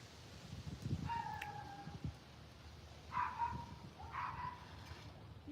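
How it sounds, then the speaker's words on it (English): A neighbor's small dog barks outdoors: three short, fairly faint yapping bursts spaced a couple of seconds apart over a steady background of outdoor noise. "Then my neighbor let their loud little doggy out, but he's cute."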